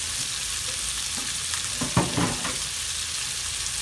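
Chicken frying in a pan, a loud steady sizzle with a few stirring scrapes and bursts of spattering near the middle, no talk.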